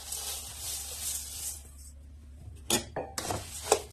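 Puffed rice being dry-roasted over a low gas flame in a kadhai: a soft, dry rustling hiss at first, then a few sharp scraping clinks from the stirring.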